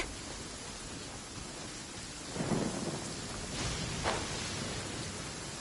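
Rain falling steadily in the Genshin Impact video game, with a low thunder rumble swelling midway and fading, then a fainter crack of thunder near the end, all under a constant wash of rainfall.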